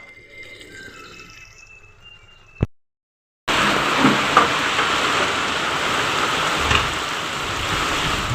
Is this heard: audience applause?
no